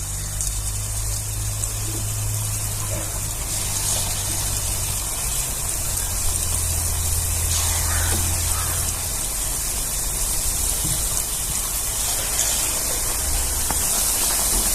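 Sweet jaggery fritter batter (gulgule) frying in hot oil over a low gas flame, a steady close bubbling hiss that runs continuously throughout, with no talk over it.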